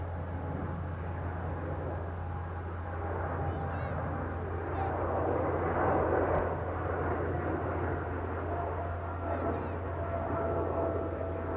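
A Boeing 777 banks into a right turn after takeoff from the center runway at Amsterdam Airport, its engines a steady, distant broadband roar with a low hum, continuous and unbroken throughout.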